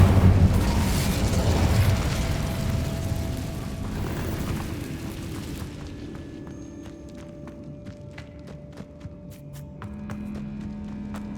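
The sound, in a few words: Incendio fire spell in the video game Hogwarts Legacy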